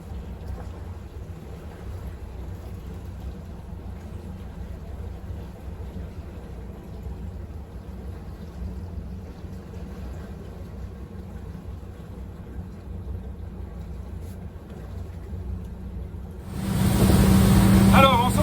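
A rented motorboat speeding at sea off the Estérel coast, a steady low engine drone with wind and water rush throughout, swelling suddenly into a louder, rougher roar at the end.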